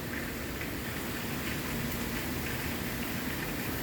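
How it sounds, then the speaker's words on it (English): Steady rain pours in Bryan, Texas, a dense, even hiss of drops on surfaces, constant and fairly close throughout with no voices. "get out and get in the rain or look in the rain or take pictures or video of the rain"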